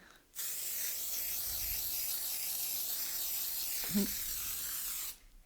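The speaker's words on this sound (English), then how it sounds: "This is like a pearl spray on the roof." A steady aerosol of edible pearl spray hisses continuously for several seconds onto the icing of a gingerbread house cake, close and fairly loud, with a brief clunk near the end before it cuts off.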